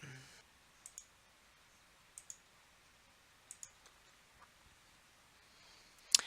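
Sharp, quiet computer mouse clicks come in pairs and singles spread across a few seconds in an otherwise near-silent room, with a louder click at the very end.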